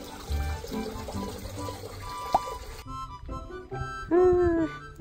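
Hot spring water runs and pours steadily at a free outdoor foot bath in Izu, a continuous close splashing flow with a brief sharper splash near the end.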